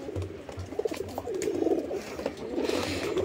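Pigeons coo softly and repeatedly at close range while pecking food from a hand, with low throaty calls and light rustling.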